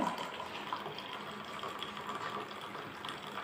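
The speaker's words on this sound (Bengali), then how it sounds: "আমরা এটা এখন কাপে ঢেলে নেব" Herbal tea poured into a cup, heard as a quiet, continuous trickling stream of liquid for a few seconds with no other sounds over it.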